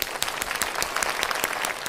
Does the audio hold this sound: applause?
yes